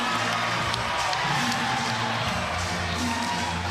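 A crowd cheers at an NCAA women's volleyball match, Houston against BYU, a loud sustained roar of an arena crowd filling the whole stretch.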